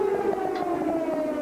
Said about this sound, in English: And the sirens keep sounding